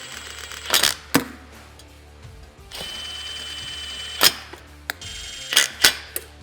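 A ratchet snugs bolts on a roof rack for a CFMoto UForce 1000, with short bursts of close clicking separated by quiet gaps and a low mechanical hum.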